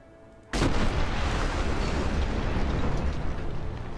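A shot object in Fallout New Vegas blows up with a sudden loud blast, followed by a sustained roaring, crackling rumble that fills the rest of the moment without fading much.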